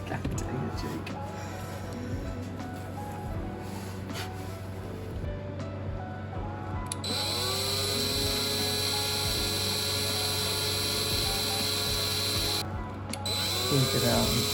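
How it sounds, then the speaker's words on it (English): A power drill bores through a metal pin, its motor whining steadily and rising in pitch partway through, with water and background rumble underneath. "drill through this side and then barely into that side"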